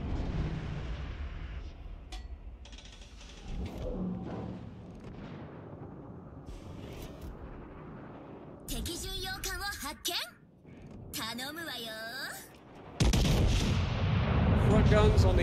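Naval guns fire repeatedly in World of Warships Legends, heavy booming salvos rolling through a battle in several bursts, with someone talking over the action.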